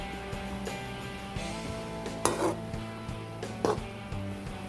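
A spatula clinks and scrapes in a pan while tomatoes sauté with a faint sizzle, two sharper metallic knocks standing out.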